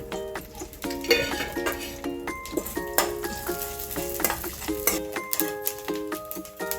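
Mustard seeds, chana dal and urad dal fry in hot oil with a close crackling sizzle, sharp pops and a few clinks from the pan, steady and without voices.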